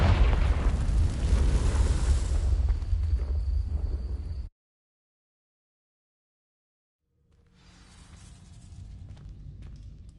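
A Confringo fire spell in the Hogwarts Legacy video game ignites dry vines with a loud, roaring burst of flame. The roar cuts to silence, then a quieter low crackling hum builds.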